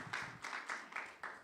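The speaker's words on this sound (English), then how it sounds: "Everybody should give themselves a round of applause" Audience at a Beverly Hills West and Los Angeles chapter event clapping, a short burst of quick, moderately faint claps in an uneven rhythm.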